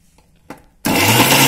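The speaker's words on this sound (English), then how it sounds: "we're going to close it and we're going to grind it into a smoothie" Blender grinding dates and banana into a smoothie: after a few soft handling taps and a click, the motor roars on abruptly, loud and close, and holds a steady whirring grind.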